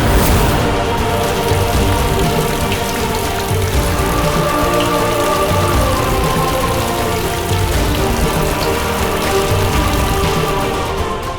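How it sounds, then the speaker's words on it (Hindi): Rain falls steadily, a dense, even hiss of drops spread across the full clip, loud and close with no pauses. "बारिश हो गई।"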